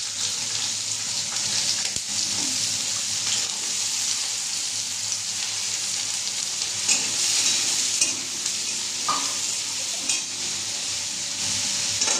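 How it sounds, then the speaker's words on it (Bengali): Diced potatoes dropped into hot oil with black cumin seeds sizzle and fry in a steady, close hiss that runs unbroken throughout, with faint stirring and clinks of the pan but no voices. "কালো জিরে দিয়ে দেবো আর তারপরে আমি আলুটা ছেড়ে দেবো"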